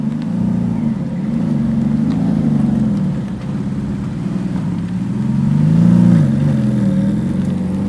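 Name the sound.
Nissan R33 car engine revving while passing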